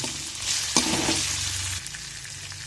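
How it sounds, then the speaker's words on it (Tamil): Tomato being fried and stirred in a pan with softened onion and ginger garlic paste, a steady loud sizzle with spoon scrapes and clanks throughout, no talking. "தக்காளி போட்டு நல்லா வதக்கலாம்."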